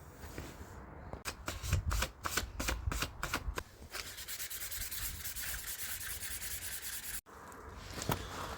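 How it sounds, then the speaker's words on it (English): Sandpaper rubbing varnish off a wooden hatchet handle by hand, quick rhythmic scratchy strokes at first, then steady continuous sanding, close and fairly quiet with no talking. "And then we're just going to sandpaper the varnish off the top here."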